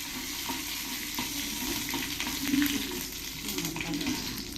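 Mustard seeds frying in oil for tempering bisi bele bath, a steady close sizzle and crackle with faint stirring, no talk over it.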